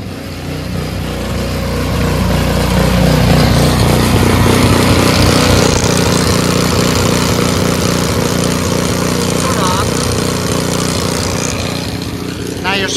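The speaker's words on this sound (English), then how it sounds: "Unlike electric snowblowers, the gas ones, if you're gonna store them, gotta run the gas out." A gas snowblower engine runs steadily to burn off its remaining fuel, a loud, close, continuous motor drone that swells in the first seconds and then holds constant throughout.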